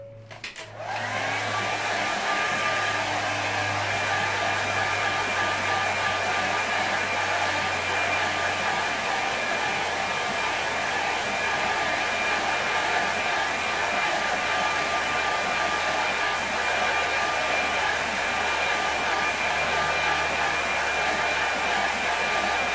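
A hair dryer blows steadily over a watercolour painting, switching on at the start and then holding a loud, even whir with a constant tonal whine for over twenty seconds.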